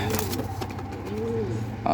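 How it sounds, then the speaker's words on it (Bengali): Giribaz and Teddy crossbreed pigeons coo softly nearby in short rolling calls, heard against a background murmur with a voice faintly present. "এটা হচ্ছে গিয়ে আপনার গিরিবাজ এবং টেডি কবুতরের কর্স আছে"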